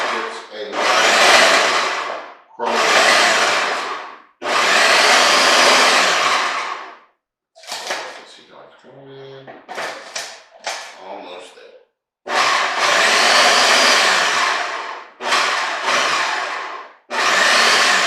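A food processor pulsing strawberry crumb bar crumble, several loud whirring bursts of a few seconds each with short gaps, close by, and softer clatter and rattling in a quieter stretch midway.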